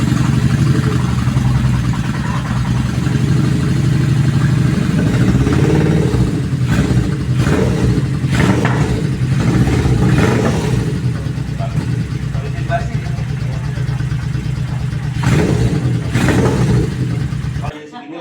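A loud old boxer motorcycle engine idles roughly close by and is revved in repeated surges, with people talking over the noise.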